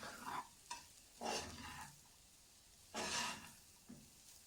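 An egg cooks in a pan for Singaporean-style egg fried rice, with soft intermittent scraping strokes of stirring over a faint sizzle, quiet and close, in several separate bursts.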